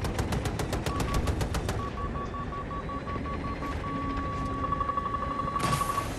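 Rapid automatic gunfire rattles in a fast burst in Battlefield 2042, followed by more scattered shots, with a beeping electronic tone running underneath.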